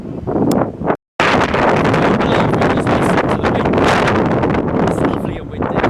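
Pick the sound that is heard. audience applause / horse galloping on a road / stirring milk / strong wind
strong wind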